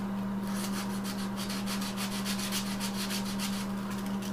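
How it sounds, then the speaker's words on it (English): Delicate wood fretwork being hand sanded with 220 grit sandpaper, held steady without a backing piece, giving a close, steady rhythmic scratching of quick back-and-forth strokes over a constant low hum, with no talk. "here's an example of not using the backing piece to sand. You just hold it steady and it works."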